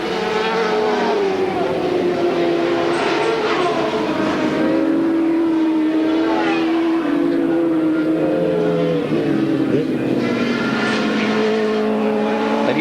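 Racing motorcycles scream down the straight at Lakeside during the 1988 ARRC, loud high-revving engines rising and falling in pitch as several bikes pass in close succession.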